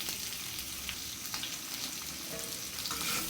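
Potato pieces fry in hot oil for a Bengali-style potato curry, producing a quiet, steady crackling sizzle with small pops throughout a short stretch and no voices.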